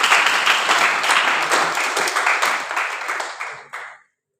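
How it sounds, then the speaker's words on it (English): Enthusiastic audience applause and clapping for the winner at a debate competition, a dense, steady burst of many hands that tapers off over about four seconds before cutting to silence. "Big round of applause."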